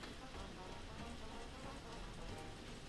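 Steady rain falls outside, a dense, faint patter of drops that holds even and continuous with no talk over it.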